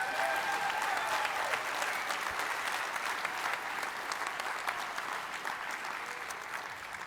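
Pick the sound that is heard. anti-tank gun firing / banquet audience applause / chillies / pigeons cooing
banquet audience applause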